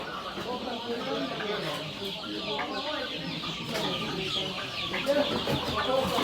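Chickens clucking and a rooster calling amid a busy crowd at a poultry market in Manas, with people talking in the background throughout.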